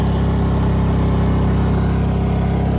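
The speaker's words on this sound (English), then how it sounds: "Still running off the generator." Honda EU2200 portable generator engine running at a steady, even drone, loud and constant for the whole short stretch, with no voices.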